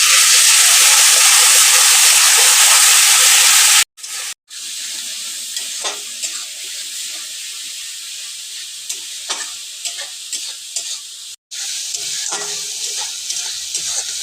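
Onion, tomato, salt, turmeric, chilli powder and chilli-garlic paste sizzle and fry steadily in a pan, with stirring scrapes throughout and two brief breaks in the hiss.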